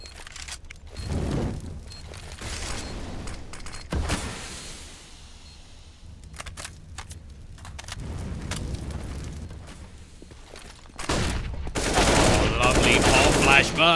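Grenade blasts and bursts of automatic gunfire in a Counter-Strike match on the Nuke map, with booming explosions and rattling fire coming in waves and swelling loudest toward the end.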